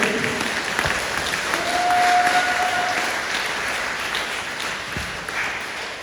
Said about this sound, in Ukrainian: Будь ласка, аплодисменти моєму спонсору.